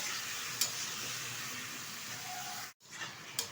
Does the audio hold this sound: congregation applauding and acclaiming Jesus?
no